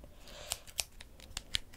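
Scissors snip through hair while cutting bangs, five or six crisp, dry clicks spaced irregularly, close and quiet, with no talking.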